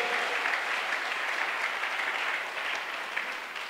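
A church congregation applauds in steady, dense clapping that holds at an even level throughout, close and full, with no voices standing out.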